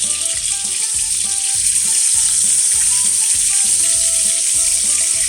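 Duck breast sears loudly in a hot pan, a steady dense sizzle running throughout with faint rhythmic mechanical ticking underneath.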